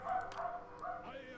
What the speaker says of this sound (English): You can see the dogs barking in the background